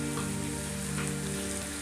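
Chopped onion and green chillies sautéing in a pan while making red aval kozhukattai, giving a steady close sizzling hiss with a low hum underneath, no voices.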